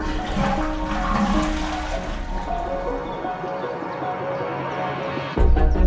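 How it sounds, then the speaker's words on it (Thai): A toilet flushes in a bathroom, a steady rushing gush of water lasting several seconds at close range, then cutting off abruptly near the end with no voices. "เวลาเข้าห้องน้ำ คุณชอบลืมกดชักโครกอยู่เสมอ"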